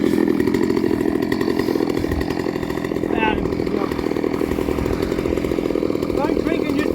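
A Husqvarna 345 or Stihl MS230C chainsaw engine runs steadily and loudly up close for the whole stretch, a continuous buzzing drone with slight revving, while a voice talks over it.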